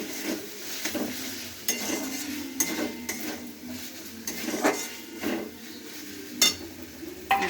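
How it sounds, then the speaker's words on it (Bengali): Tomato and onion fry in a pan for a soybean roast, with repeated spoon scrapes and clinks against the metal over a soft, steady sizzle, all close and with no talking. "এই টমেটোটা পেঁয়াজটা একটু ভাজা ভাজা হোক।"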